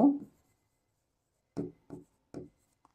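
Handwriting during a calculus lesson, one longer scratching stroke followed by three short pen strokes on paper, close and quiet with silence between.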